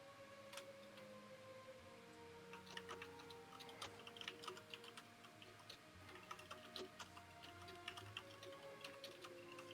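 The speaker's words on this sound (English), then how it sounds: "I'm thrilled that you're typing, but we can hear all of it" Typing on a computer keyboard runs steadily throughout, quick irregular key clicks, faint and close, over a low background hum, with no voices.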